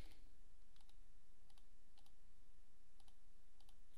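Password being typed on a computer keyboard while setting up security on a Maple Systems HMI, faint, quick key clicks in small clusters over a quiet room hum.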